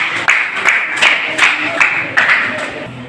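A school audience at a grade 9 news review claps in short, evenly spaced bursts, almost rhythmic, moderately loud with no talking over it.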